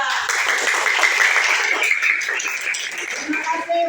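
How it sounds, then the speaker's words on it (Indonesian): Classroom applause from schoolchildren for a student group after a presentation, a dense wash of clapping sustained for several seconds with a teacher's voice faintly beneath. "kita beri tepuk tangan dulu untuk kelompok 3"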